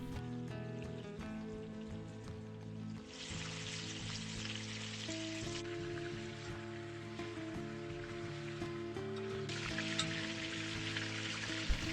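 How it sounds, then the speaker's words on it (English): Meatballs fry in a generous slug of Spanish olive oil for a Catalan dish of meatballs with peas and artichokes, a steady close sizzle with brighter bursts of spitting, under a constant background tone. "fried till golden in a good slug of finest Spanish olive oil"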